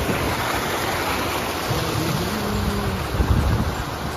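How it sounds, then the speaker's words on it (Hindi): A mountain stream in Chitkul rushes loudly and constantly, a dense, unbroken roar of flowing water heard up close with no talking. "और ये पहाड़ों का पानी।"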